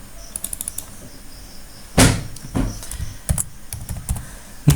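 Keystrokes tap on a computer keyboard in scattered bursts, with a few louder, sharper clicks standing out and no voices.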